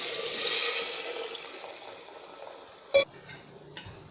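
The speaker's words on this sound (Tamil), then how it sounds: "வேகிற அளவு தண்ணி ஊற்றிக்கலாம்" Water poured into a pot of boiled chickpeas for Chettinad kondakadalai kulambu gives a steady splashing hiss that gradually thins out, then a sharp metallic clink of the pot near the end.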